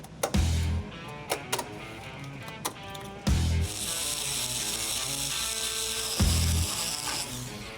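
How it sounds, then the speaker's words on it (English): Excess fiberglass cut off a Crown Vic race car body, loud close bursts of a cutting tool with sharp clicks and grinding between, repeating several times, with no talk. "we'll go ahead, cut off the extra fiberglass here"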